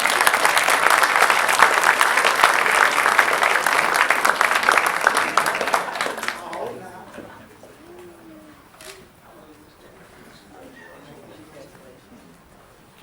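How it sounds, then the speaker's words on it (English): A school board meeting audience gives a round of applause honoring Mr. Burton; loud, full clapping lasts about six seconds, then fades away, leaving a quiet room where a pigeon coos softly. "Mr. Burton's family or friends, if you'll please stand, we want to give you a round of applause."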